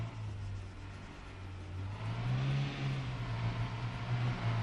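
A civilian vehicle's engine in the video game Arma 3 drones steadily as it passes, swelling louder toward the end with a mid-pitched hum and whir, heard alone without talk.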